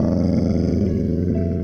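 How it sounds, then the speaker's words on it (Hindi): A heavy animal growl close to a tent at night at a forest campsite: a deep, continuous rumbling snarl, loud and near, with no voices. "टेंट के पास से आती बेहद भारी गुर्राहट।"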